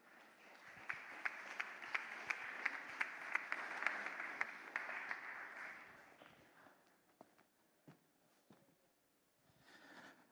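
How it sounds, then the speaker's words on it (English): Audience applause at the Oslo Freedom Forum 2026 Freedom Tech Track: a dense wash of clapping with sharp individual claps, strong for several seconds, then thinning to scattered claps and a faint stir of the hall. "Let's give him a huge round of applause."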